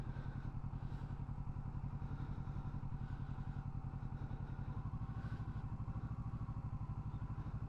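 A motorcycle engine holds a steady, even throb at constant RPM while the rider turns around a cone, a close, continuous rhythmic putter with no talk.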